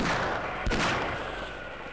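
Gunfire in the video game Half-Life, a single sharp, loud shot followed by a brief decaying rumble against constant background noise.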